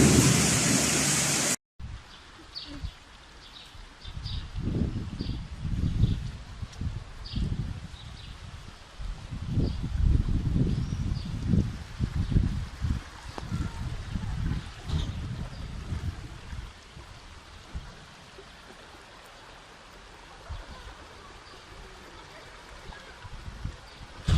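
Heavy rain pours down in a thunderstorm while water runs along a street and into an apartment building, with repeated rumbles of thunder rolling through a steady wash of rainfall across the whole stretch.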